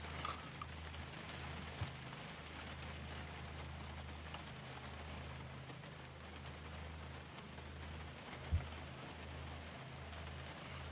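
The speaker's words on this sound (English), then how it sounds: "And it's raining." Steady rain hissing in Project Zomboid, a broad even wash with a low rumbling hum underneath and a few faint isolated ticks, no voices.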